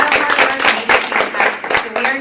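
Elementary school students, including seventh graders, get a round of applause at an awards ceremony: steady pulses of clapping rise and fall while a nearby adult voice keeps talking over them.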